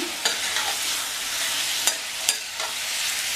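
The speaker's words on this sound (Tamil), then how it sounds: "உருளைக்கிழங்கு சேர்த்ததுக்கப்புறமா நல்லா ஒன்றா மிக்ஸ் பண்ணி விட்டுடலாம்" Potato pieces being stirred through an onion masala in a hot pan, a steady close sizzle broken by a few sharp spatula scrapes and clinks, with no voices.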